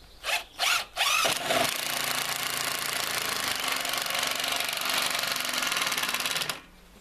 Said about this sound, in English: This Bosch impact.